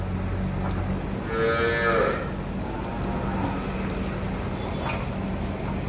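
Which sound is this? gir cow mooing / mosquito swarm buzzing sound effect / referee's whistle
gir cow mooing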